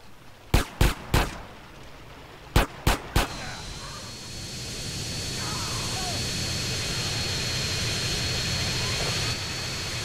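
A jet engine in the video game GTA San Andreas roars steadily after a few sharp gunfire-like bangs at the start, with a high whine running through the sustained, fairly loud rumble.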